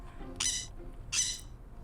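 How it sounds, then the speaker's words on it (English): Two short, shrill squawks from a sun parakeet, an endangered non-native parrot kept as a pet, spaced under a second apart and fairly close against a quiet background. "she's a sun parakeet, which happens to be a non-native endangered species"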